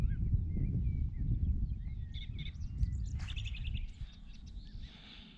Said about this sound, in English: got a blackbird as well